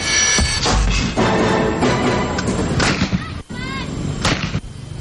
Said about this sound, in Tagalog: patok ang mga boga dahil katunog nito ang mga paputok na gawa sa pulbura